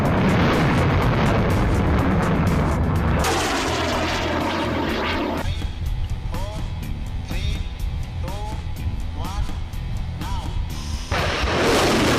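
Upgraded Pinaka rocket test firing: a loud, continuous roaring rush from the launch that sweeps and rumbles for several seconds, heard close with heavy broadband noise and no speech.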